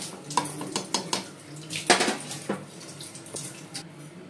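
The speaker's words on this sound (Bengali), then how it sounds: "তো এবার আমি কুকারের ঢাকনাটা এঁটে দেব।" A metal pressure cooker lid is fitted and closed in a kitchen after the dalia has gone in, with clattering metallic clanks and scrapes, one sharper knock in the middle, and close, irregular handling.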